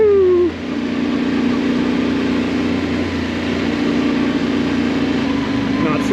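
Off-road motorbike engine droning steadily while riding solo on stock 50/50 tires, a loud continuous mid-pitched hum that holds for the whole stretch after a brief quieter start.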